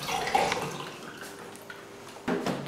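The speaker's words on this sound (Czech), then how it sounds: "Poté zalijeme vodou." Water poured into a container, an uneven splashing and trickling stream with a brief louder gush near the end, close and fairly quiet.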